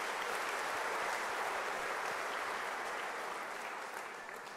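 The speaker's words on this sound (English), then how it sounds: "Can we give UNISA another round of applause" Sustained applause from a large audience at a university closing ceremony, a dense even roar of many hands that holds steady and then gradually fades toward the end, quite distant and soft.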